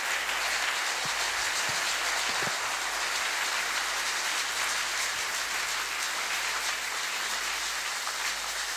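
A church congregation at a Sunday service breaks into sustained applause, a dense even wash of clapping that fills the whole stretch at moderate loudness, with no speech over it.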